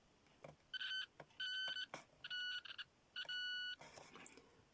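A continuity tester checking the junctions of a germanium PNP transistor gives four short electronic beeps in an irregular sequence, each lasting about half a second, with faint clicks of probes between them in a quiet room.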